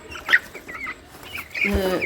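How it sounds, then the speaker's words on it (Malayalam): Fancy-breed Fayoumi and Brahma chickens cluck in short, scattered calls nearby, a brief burst at the start and a louder one near the end, over faint background noise. "ഇതൊക്കെ വരെ കയ്യിലുള്ള കോഴികളാണ്"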